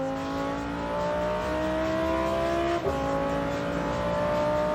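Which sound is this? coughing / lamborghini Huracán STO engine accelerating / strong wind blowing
lamborghini Huracán STO engine accelerating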